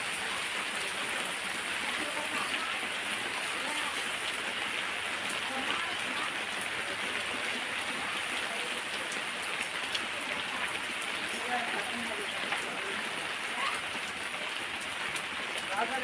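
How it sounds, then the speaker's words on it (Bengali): Chopped onion and garlic fry in hot oil, the start of a beef-filled pitha, with a dense, even hiss that stays loud and constant from start to finish. "রসুনটা আমি লাল লাল করে ভেজে নিব।"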